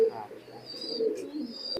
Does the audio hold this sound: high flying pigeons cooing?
yes